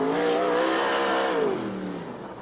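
A 360 sprint car at the Ventura USAC/CRA and VRA 360 sprint car event roars past at high revs, its loud engine note holding steady then dropping in pitch as it passes and fades slightly.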